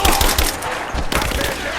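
Suppressing gunfire in the Rise of the Tomb Raider video game, a dense run of rapid shots and bursts at steady loudness for a couple of seconds, close and continuous.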